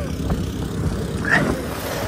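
A drone's buzzing propeller whir hums steadily over outdoor background noise, with a faint brief rise in pitch midway.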